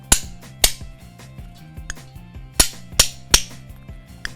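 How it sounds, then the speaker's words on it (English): Hammer taps on a bolt to spread the ears of an Armor-Grip suspension housing: about six sharp metallic strikes, irregularly spaced, with ringing tones between them and no talk. "We give it a few taps. We want to spread these ears."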